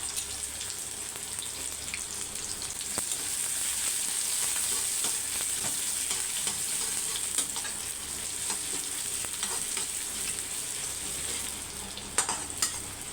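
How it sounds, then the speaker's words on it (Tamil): Garlic and sliced onion fry in hot oil for a Tamil-style egg vegetable fried rice, giving a steady, close, hissing sizzle with faint crackles and occasional stirring scrapes throughout. "இப்போ பத்து பூண்டை சேர்த்துக்கலாம் நல்லா வாசம் வர வரைக்கும் நல்லா பொறிச்சு எடுத்துக்கோங்க"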